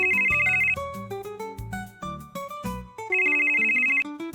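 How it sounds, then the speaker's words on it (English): A phone ringtone plays a loud, melodic electronic ring pattern, repeating a bright phrase twice over a few seconds with no voices. "It was phone ringing."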